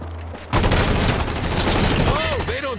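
Rapid volley of gunfire from the video game Combat Champions, a dense, loud burst of shots running continuously for a couple of seconds after a brief lull, with a voice talking underneath.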